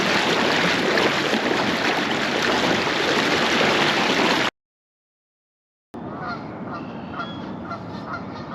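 Geese honking by a river while smallmouth bass fishing, loud and close over a dense wash of flowing water, cutting out briefly before calls resume with sharp repeated honks.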